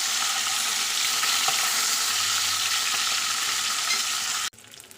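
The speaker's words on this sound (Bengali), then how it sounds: "এই দেখো মাছগুলো ভালোভাবে ভাজা হয়ে গেছে" Soft, delicate fish fry in oil in a pan with a continuous hiss and crackle. A faint scrape of a spatula is heard partway through, and the sizzle cuts off abruptly near the end.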